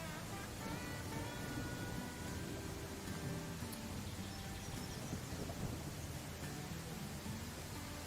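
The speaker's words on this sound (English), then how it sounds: "Well, that was an interesting storm anyway, wasn't it?" A thunderstorm in the Viking settlement-building game Land of the Vikings: steady heavy rain hisses throughout while low rumbles of thunder roll beneath it, with no talking.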